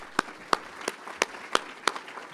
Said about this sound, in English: I'm just going to do a round of applause here for these guys